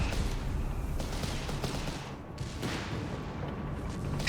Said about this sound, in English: That is a lot of self-propelled artillery.